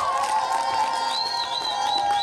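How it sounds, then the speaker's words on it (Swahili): A crowd at a fundraising campaign gathering claps and cheers in a short, lively burst of mixed voices and applause that fills the whole moment. "Tujipigie makofi"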